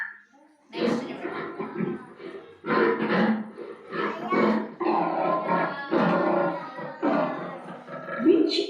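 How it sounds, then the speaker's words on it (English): A lion roars and growls again and again in loud, rough bursts that fill the whole stretch, part of a children's animal-sound guessing game. "Which animal? Lion."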